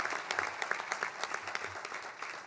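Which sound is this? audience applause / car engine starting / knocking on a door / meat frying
audience applause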